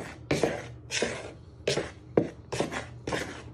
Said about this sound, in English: So you're just giving that a little bit of a stir in.